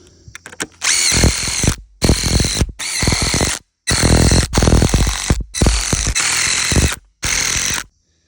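A power drill drives screws into a wooden buck skinning pole in seven short, loud whirring bursts separated by brief pauses, close up and with no talk.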